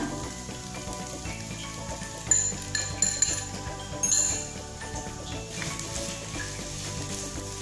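A beaten egg is worked into a cornflour-bound filling with a utensil, giving soft wet mixing with several sharp metallic clinks against the bowl in the middle stretch, close and fairly quiet, no talking.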